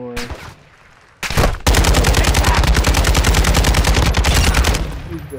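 Enemy gunfire in a shooter video game: a brief shot burst, then a long, loud, sustained automatic volley with rapid even rhythm that stops near the end.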